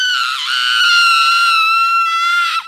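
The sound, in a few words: ghostly screaming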